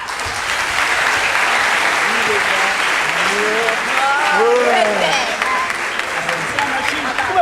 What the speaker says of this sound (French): Applaudis encore pour les amis.